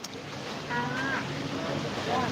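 Steady broadband water and wind rush from a boat moving along a river in Bangkok and turning left, with a person talking over it.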